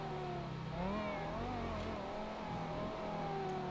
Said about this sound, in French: Je vous fais écouter un peu le bruit du moteur.